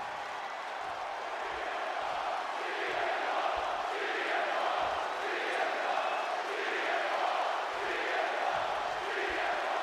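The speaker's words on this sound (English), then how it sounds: "just listen to this crowd here in Chicago" A steady roar of a large arena crowd in a WWE 2K26 wrestling video game match in Chicago, swelling and surging in waves, with faint thumps underneath and no clear single voice.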